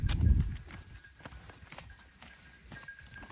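A herd of goats walks along a dusty path, their hooves making soft, scattered scuffs and clops. A heavier thump comes at the start, then irregular light footfalls continue at close range with no voices.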